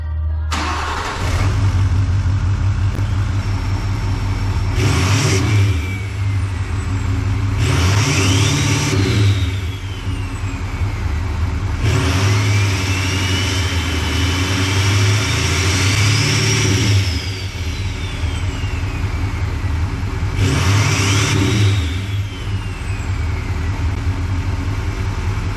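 A 2016 Nissan Titan with the 5.0 Cummins diesel engine, fitted with a DPF-delete exhaust and downpipe, starts and revs repeatedly. Loud, close bursts of throttle rise and fall over a deep idle rumble, with no talking.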